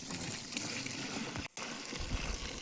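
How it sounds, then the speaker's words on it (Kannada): Pesticide-mixed water poured into a spraying can on a plantation, a continuous rushing splash with a brief break partway through and some low sloshing near the end. "ಔಷಧಿ ನೀರು ಹಾಕ್ತದ ಫಸ್ಟ್ ಕ್ಯಾನಿಗೆ"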